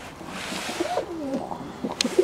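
Straight tail doves coo softly in low, rounded calls, several overlapping coos close by against a faint outdoor background, with a short bright chirp near the end.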